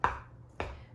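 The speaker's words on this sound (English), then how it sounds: "I'm chopping and cutting through the potatoes" A mix and chop tool cuts through cooked potatoes, still in their liquid straight from the microwave. Two sharp, close chopping strikes come about half a second apart, quiet against a still background.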